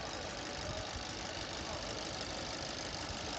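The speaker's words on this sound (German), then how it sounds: "Ja, Andi, warum lassen wir den Motor weiterlaufen?" A car engine idles steadily during a roadside breakdown in China after overheating, giving a faint, even mechanical hum with a slight knocking texture and no talking.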